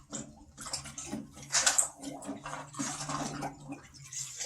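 Plastic seed-starting containers dipped into bleach water in an old trash can, making close sloshing and splashing with drips, in uneven bursts of moving water.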